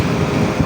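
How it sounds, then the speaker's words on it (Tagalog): Wind gusts across the coast in a brief, steady roar, buffeting the microphone, with waves likely washing in beneath it. "Tunog ng hangin."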